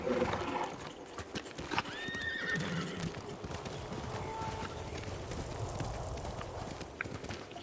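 Horse whinny and clip-clopping hooves in a video game, a neigh near two seconds over steady hoofbeats, quiet and fairly distant within ambient game sound.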